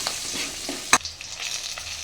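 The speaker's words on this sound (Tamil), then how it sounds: "நல்லா ஈரப்பசம் போகிற வரைக்கும் வறுக்கணும் பூண்டு கொஞ்சமாக கலர் மாதிரி வந்ததுக்கப்புறம்" Garlic fries with curry leaves and dried red chillies in hot oil, giving a steady close sizzle. A single sharp clink of a stirring utensil cuts through it partway.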